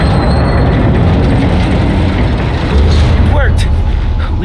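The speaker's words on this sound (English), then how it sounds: "We've got trains on the tracks." Trains run on the tracks in the Spider-Man: Miles Morales video game, a loud continuous rumble and rattle of rail traffic that fills the whole moment, with a few brief squeals and game sounds near the end.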